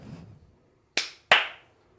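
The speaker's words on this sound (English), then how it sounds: "Clap." Two sharp hand claps ring out close and loud a third of a second apart, each with a short decaying tail, after a brief murmur of background noise and then quiet.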